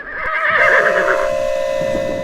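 A horse whinnies loudly and up close in a drawn-out, wavering neigh that settles into a long sustained tone before fading, with no one speaking.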